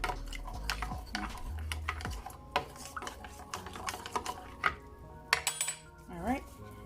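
Maggi stock being stirred in a cup while cooking jerk shrimp and salmon rasta pasta: a spoon clinks and scrapes against the cup in quick irregular taps, close and fairly quiet.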